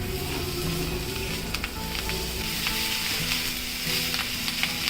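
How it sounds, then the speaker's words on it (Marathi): Chivli wild leafy greens being sautéed in masala in a pan sizzle steadily up close, with a constant frying hiss and intermittent light scraping stirs, no voices. "आता आपण ही भाजी त्यात घालूया आणि 1 मिनिटभर आपण या मसाल्यामध्ये भाजी परतून घेऊया"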